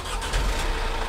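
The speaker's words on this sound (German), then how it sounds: "Wie bei anderen Nutzfahrzeugen auch, wird der Motor gestartet, Kupplung treten." Diesel engine of an LK270 aerial work platform truck turning over and settling into a low, steady idle, a brief close rumble heard alone.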